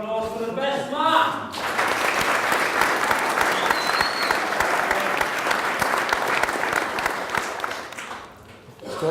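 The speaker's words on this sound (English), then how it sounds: "big round of applause for the best man" Wedding guests applaud the best man at the speeches. A voice opens briefly, then loud, sustained clapping fills the room for several seconds and tapers off near the end.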